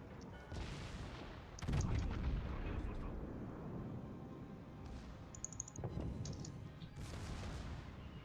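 Naval gun salvos and shell impacts in World of Warships, heavy booming blasts and rumbling hits rising and falling over background game noise, with a voice talking at times.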